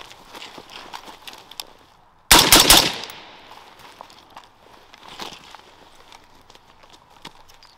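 A rifle fired once from the prone position on the ground, a single loud sharp crack with a brief decaying echo, set among quieter shuffling and handling noises, with no talking.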